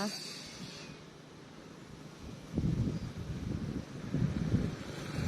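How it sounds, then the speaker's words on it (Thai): Cool winter wind blowing outdoors in sunny weather, a steady rushing buffet on the microphone that swells and gusts louder midway, with no clear voices over it. "แต่ว่าลม ลมพัดนะคะลมพัดลมเย็นนะคะ"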